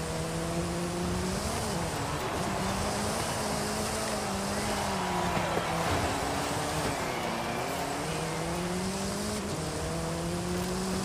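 Race cars in Forza Horizon 5 roar steadily through a seasonal championship race, engine pitch rising and dipping as they shift, continuous and fairly close, with faint talk underneath.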